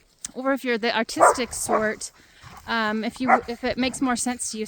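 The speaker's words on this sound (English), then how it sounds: "sorry about the dogs, they're fighting over there." Dogs fighting nearby give off snarling barks and yips in the background, partly masked by a person talking steadily over them.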